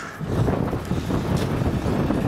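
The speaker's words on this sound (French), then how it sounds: "je sais même pas si vous m'entendez tellement il y a de vent" Heavy wind buffeting the microphone at an outdoor construction site, a continuous loud low roar and rumble with gusty fluctuations throughout.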